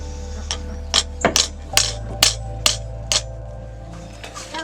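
Metal pins tapped into drilled holes in a knife handle for a dry test fit, heard as about nine sharp, separate taps in an uneven rhythm over a low steady hum.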